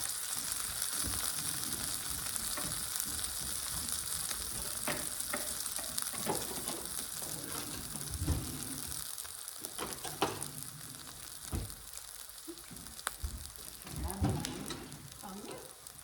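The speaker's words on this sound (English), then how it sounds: "And in the meantime, I'm gonna let that fry up." Birria tacos on a tortilla searing in a pan over medium heat give a continuous bright sizzle and crackle, with scattered pops and soft knocks throughout.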